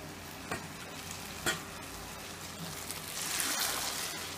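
Onion frying in hot palm oil gives a soft, steady crackle in the pan, with two brief knocks early on and the sizzle growing a little louder toward the end.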